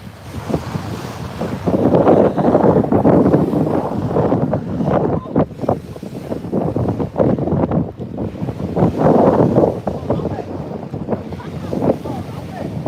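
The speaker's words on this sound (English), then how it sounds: "the wind's just started to pick up." Strong wind gusts buffet the microphone beside Lake Wakatipu in Queenstown, New Zealand, rising and falling in loud roaring surges with a wash of lapping water underneath.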